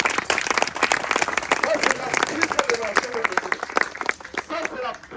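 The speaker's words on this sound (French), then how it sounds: "Applaudissez pour la parole de Dieu." A church congregation applauds, a dense sustained round of clapping from a crowd indoors, with voices mixed into the steady patter throughout.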